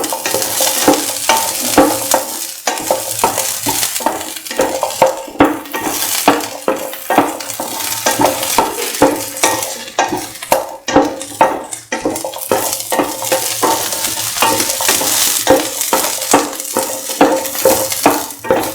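Onions and shallots frying with salt in a pan for plantain rice, a loud sizzle broken by rapid, rhythmic scraping and stirring strokes of a utensil against the pan throughout.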